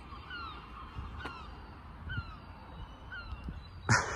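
Seagulls calling loudly outdoors, repeated sharp cries over a steady background hum, with a louder burst near the end.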